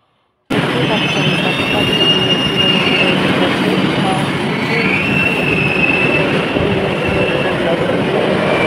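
A passenger train departing Howrah station for Puri rumbles loudly and continuously after a brief silent start, with steady wheel noise and faint high squeals throughout.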